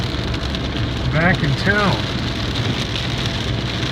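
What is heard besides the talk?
heavy rain falling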